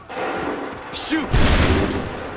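A volley of musket fire in the Assassin's Creed III game, a loud crackling burst of many shots that rolls out and fades, with shouting voices around it.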